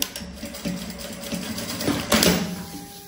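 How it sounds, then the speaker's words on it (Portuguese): A sewing machine stitches elastic onto a handmade backpack, with close, steady rapid needle clatter and motor whir that rises in short surges. "Vou costurar aqui o elástico nessa ponta e nessa outra ponta aqui."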